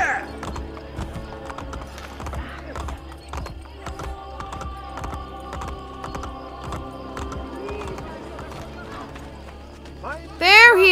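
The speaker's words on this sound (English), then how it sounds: "Excuse me, sorry, I needed your horse." Horse hooves clip-clop in a steady galloping rhythm in Assassin's Creed: Brotherhood, with talk over it and a sharp whinny at the end.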